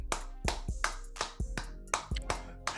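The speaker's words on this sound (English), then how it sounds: "hand clap of praise" Sharp hand claps of praise ring out close and dry, about eight quick, uneven strikes spread across a few seconds.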